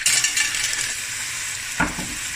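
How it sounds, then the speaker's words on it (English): Clams stir-frying with Thai chilies in a pan, a continuous bright sizzle with a brief louder clatter near the end as the shells shift. "I'm going to add about 300 grams of clams."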